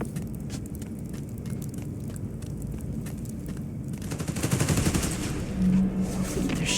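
Rapid bursts of automatic gunfire crackle in a Spider-Man: Miles Morales video game fight, a steady rattling volley that gives way to louder impacts and scuffling action sounds.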